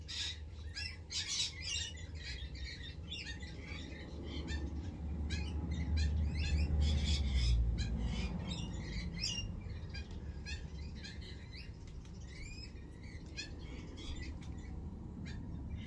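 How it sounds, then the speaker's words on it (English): Birds chirp and tweet outdoors, a busy mix of quick calls and trills over a low rumbling background, moderately distant and fairly constant. "Can you hear that different bird?"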